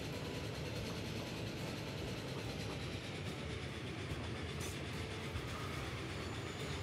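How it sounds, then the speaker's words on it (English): A train rolls past in the video game Transport Fever 2, a continuous loud rumble with rhythmic clickety-clack of wheels on rails and a heavy engine drone throughout. "Whoa, train."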